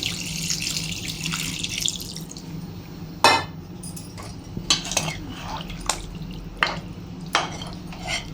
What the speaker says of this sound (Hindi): अब इसमें ग्रेवी के लिए मिला देंगे पानी, जितना ग्रेवी चाहिए उतना।